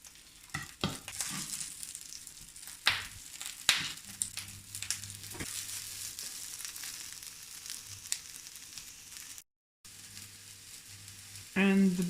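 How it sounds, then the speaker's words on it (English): Vegetables stir-fried in a pan, with sizzling and frying punctuated by loud scraping stirs, a brief drop to silence near the end, then a burst of hissing. "We're just going to give our veggies a quick stir fry"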